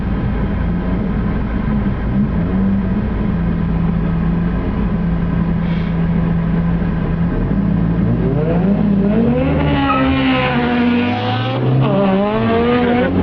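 A hot rod accelerating hard at full throttle, a loud engine roar climbing through the gears with rising pitch and shift drops toward the end, heard from close by without talk.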